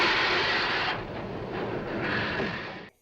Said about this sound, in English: Somehow, though, the train starts moving again.